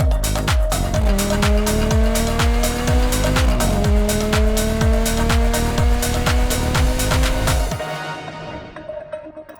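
A Ferrari F430 sports car revs hard through rising gear pulls with a loud, close engine note and squealing tires, then the sound cuts off and fades near the end.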